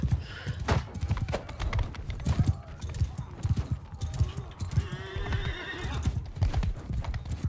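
Hooves pound in a fast gallop in Mount and Blade 2: Bannerlord, close and continuous, while a horse lets out a clear neigh partway through.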